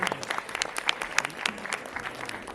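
A college audience at a song release event applauds, giving an uneven, moderately close patter of clapping hands that runs throughout with no talk.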